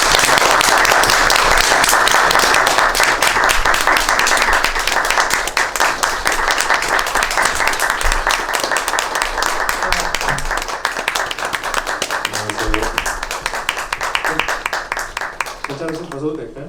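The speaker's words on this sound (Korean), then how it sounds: "들어오시면 큰 박수 부탁드릴게요." An audience at a film talk with the director and an actor gives loud, sustained applause of many hands. It stays dense for most of the clip, then thins and fades as voices begin near the end.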